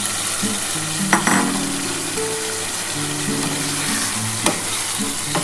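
Loud, steady sizzle of fried pointed gourd dropped into hot oil, with a couple of sharp clinks and stirring scrapes against the pan.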